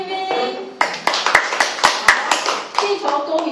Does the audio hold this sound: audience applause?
yes